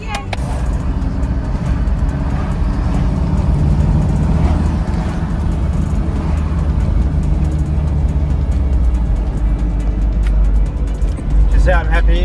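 A Mitsubishi Pajero drives along a road after a transfer case repair, its engine and road noise a steady low rumble from inside the cabin, with a voice speaking over it.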